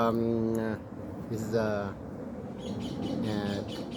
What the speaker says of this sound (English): you hear the birds chirping? It's really beautiful.